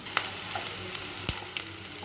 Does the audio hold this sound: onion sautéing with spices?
yes